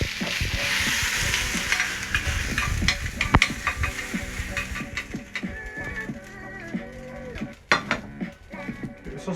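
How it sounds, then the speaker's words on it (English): Sausages sizzling and frying in a pan with beef fat, a steady hiss with clinks of utensils against the pan and occasional scraping and stirring, close and moderately loud. "keep a plate handy so that once you've coloured the sausages"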